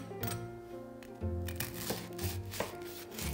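A knife saws through crisp shrimp-paste toast, air-fried at 350°F and then microwaved, giving several crunchy cuts at irregular intervals over a steady tonal background.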